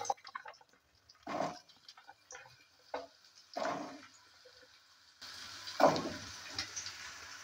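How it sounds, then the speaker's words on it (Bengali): Potatoes go into a pan for dhoka sabji with several bursts of sizzling and scraping, separated by quieter moments, ending in a louder, steadier frying hiss. "এবার এর মধ্যে আলুটাকে ভেজে নেব।"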